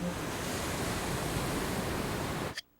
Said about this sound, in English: Wow. I can hear the sea.